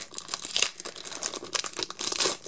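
A Pokémon TCG XY Fates Collide booster pack from Dollar Tree is torn open: close, crisp bursts of foil crinkling and ripping come in quick uneven bunches, with no talking.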